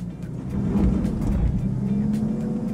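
A 2014 Volkswagen Touareg Hybrid engine revs off road in first gear on a Colorado trail, a loud, sustained drone that swells and holds steady, with no talking.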